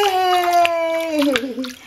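A baby splashes water in a bath, with a few sharp splashes beneath a loud, high, sustained infant squeal and cheerful adult calls nearby.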